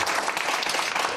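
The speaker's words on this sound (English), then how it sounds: "Oh, you get a round of applause now." Audience at a debate on whether Palestine Action should be classed as a terrorist group breaks into a round of applause, steady dense clapping from a room crowd for the whole brief moment.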